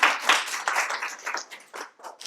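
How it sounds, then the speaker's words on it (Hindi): A small group applauds a student during an acupressure class. The burst of clapping starts fairly loud, then thins into scattered, fading claps by the end, with no speech over it. "तालियां होनी चाहिए इसको मैम के लिए।"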